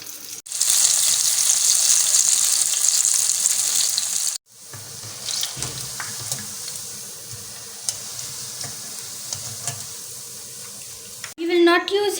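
Battered onion rings dropped one by one into hot oil in a pan, a bright sizzling burst that drops out briefly and resumes as a softer fry with small clinks, ending in a fresh loud sizzle.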